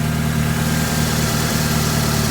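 A Honda car engine idles roughly and low, misfiring, with a steady close low hum and slight uneven stumbles running throughout, no talking.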